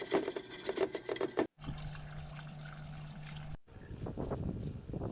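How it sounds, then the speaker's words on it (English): Water from a hose sprays over a degreased Yamaha XS750 motorcycle engine, a rushing, splashing stream in three bursts broken by short pauses, some spray steady and some choppy. "degrease everything, hose it out and get it ready for painting"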